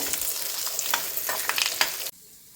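Whole spices for a chicken curry masala sizzle hard in a hot pan while being stirred, with a dense crackling hiss and scattered spatters that cut off abruptly near the end, leaving near silence.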